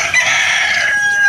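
A rooster crows loudly and close by on a rainy day, one sustained drawn-out call filling the moment with no talking.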